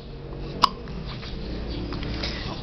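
A baby gives a single short, sharp hiccup close by, against a steady background murmur.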